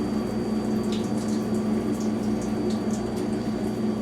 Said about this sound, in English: This thing takes a long time to fill up with water.